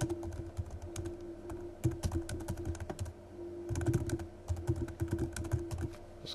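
Quick, irregular keystrokes clatter on a computer keyboard as code is typed, close and moderately loud, with short pauses between bursts and a faint steady hum beneath.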